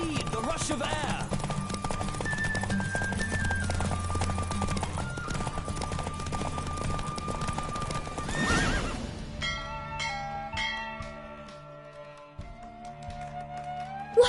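Horse in The Witcher 3 game galloping with steady clip-clop hooves and a loud whinny, heard over continuous game music and ambience, with the hoofbeats fading toward the end.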